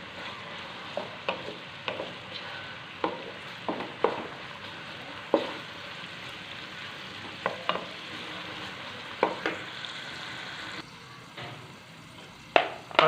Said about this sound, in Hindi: प्याज को अच्छी तरह फ्राई करेंगे।